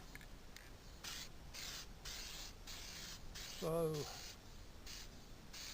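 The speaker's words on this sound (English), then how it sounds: "I also got to use gasket sealer with it." Bursts of aerosol gasket sealer spraying onto the head-gasket side of a 1995 Mustang 3.8L head gasket, several short hissing passes in a row, close and moderately loud, with a brief spoken word partway through.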